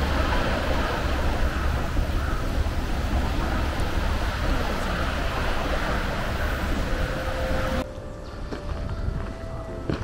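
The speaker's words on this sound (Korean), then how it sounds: "자갈 구르는 소리, 파도 밀려오는 소리," Surf rolling pebbles on a rocky beach at Eumpo on Gadeokdo island, Korea: a continuous rushing roar of waves and grinding stones heard from nearby, mixed with wind buffeting, easing slightly near the end.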